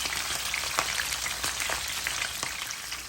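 Constant bubbling sizzle of snapper fish frying in hot oil, close up, with scattered sharper pops throughout.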